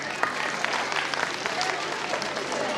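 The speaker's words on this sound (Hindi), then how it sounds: "और एक दफा तालियां इन साथरा के लिए और आसिफ नदीम साहब के लिए" Audience applause at a school convocation ceremony in Kasur, a dense, steady patter of many hands clapping together for nearly three seconds, loud and sustained.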